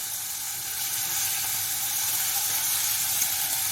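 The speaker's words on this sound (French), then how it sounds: "je vais juste un petit peu mélanger" Corn in tomato sauce sizzles steadily in a pan while being stirred, a soft continuous frying hiss with no voices.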